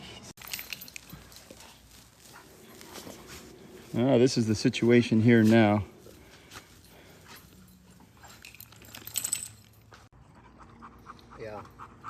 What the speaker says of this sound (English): here we are loading the dogs out